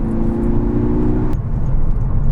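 A Volkswagen Golf GTD drives along, its engine giving a steady mid-pitched hum under continuous road and tyre noise, with a faint tonal whine that cuts off partway through.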